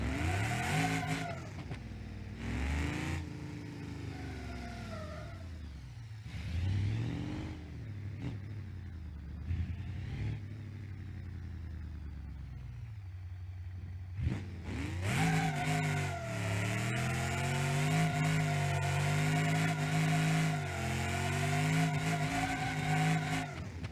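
A drag car in BeamNG.drive revving hard on an all-motor pass, the engine note climbing and falling through repeated gear changes, then holding a loud sustained roar with brief tire squeal.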